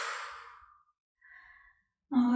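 Long, deep exhale through the mouth during a guided sophrology breathing exercise, close and breathy, fading away into silence, followed by a faint softer breath before a voice resumes speaking.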